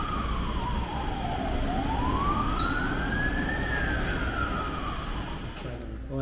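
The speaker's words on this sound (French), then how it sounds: "Et les sirènes." A Las Vegas fire engine siren winds down and then rises and falls in a slow wail. It sounds moderately distant over a steady background rumble.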